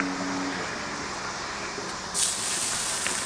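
Canton noodles land on an oiled Blackstone griddle and set off a sudden loud hiss of steam and sizzle, which cuts in over a steady background rush and keeps going.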